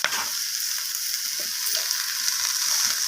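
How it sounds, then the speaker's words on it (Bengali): Vegetables with ginger-garlic paste fry loudly in a pan, a dense continuous sizzle close up, with brief scraping stirs breaking through now and then. "তো আদা রসুনটাকে দিয়ে আমি সবজির সাথে আবারও এইভাবে মিশিয়ে নিয়ে কষিয়ে নিচ্ছি।"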